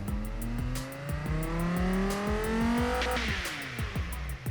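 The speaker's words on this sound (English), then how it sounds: "So let's hear the engine and see how it sounds" A Dodge Viper V10 engine in the Automation car game revs up through rising pitch sweeps with repeated shifts, loud and close with a steady synthetic roar and no talk.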